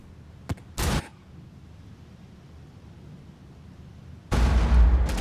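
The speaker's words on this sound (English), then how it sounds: "Wait, where does this grenade come from?" A grenade detonates in a multiplayer shooter game as a loud, sustained broadband boom with a heavy low-end rumble near the end, preceded by a couple of short sharp pops over quiet background noise.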